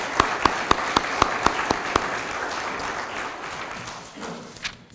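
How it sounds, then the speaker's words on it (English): At the Genesee County STOP DWI awards presentation, several sharp, evenly spaced claps open into a broader wash of audience applause that thins out and fades. "Please give them a round of applause."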